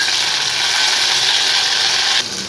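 Raw mango pieces go into hot oil with black mustard seeds and dried chilli, giving a steady bright sizzle that holds for about two seconds and then quietens a little.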